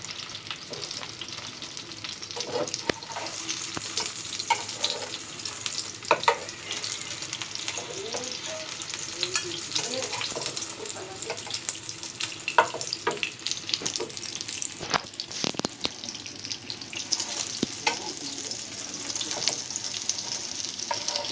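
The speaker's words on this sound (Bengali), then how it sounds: "ব্যাস আমরা ডিমটাকে এভাবে সুন্দর করে ভেজে নিব" Egg sizzling and crackling as it fries in a pan, with soft spatula scrapes and bursts of spitting oil over a continuous frying hiss.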